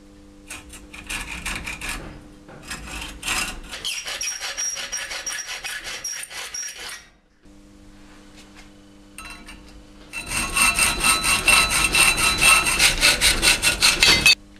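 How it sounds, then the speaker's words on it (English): Aluminum stock being hand-sawn to length for a speargun trigger housing, rapid rhythmic rasping strokes in bursts with a short pause, growing louder and harsher toward the end. "First step will be cutting a 65 millimeter long part out of this one"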